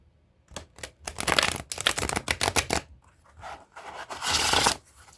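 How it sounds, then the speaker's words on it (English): A deck of oracle cards is riffled and bridged up close, quick fluttering bursts of flicking cards followed by a final cascading shuffle. "Let's see how they shuffle."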